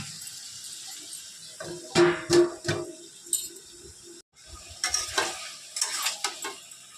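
Beef tripe being stirred and fried with spices in a pan, with close scraping spoon strokes at irregular intervals over a soft, continuous sizzle and no talking.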